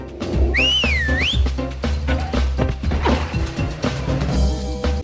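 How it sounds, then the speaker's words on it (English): In a Garfield video game, a whistle used to call dogs rises and falls in one clear, sweeping tone. It plays over busy, continuous game music and effects. "Is the whistle mechanic programmed to just call over a dog?"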